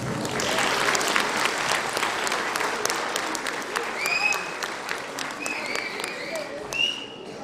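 The audience at a folk cultural society's annual concert applauds with steady, dense clapping that fades slightly toward the end, and a few voices and whistles are heard in it.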